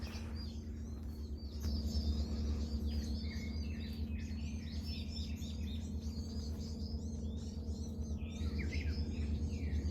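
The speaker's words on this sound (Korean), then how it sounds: "이른 새벽이라 새들이 더 지저귀는 걸까요?" Many birds chirp and twitter continuously at early dawn along a coastal cliff trail, a dense chorus of small high calls over a steady low background hum, with no talking.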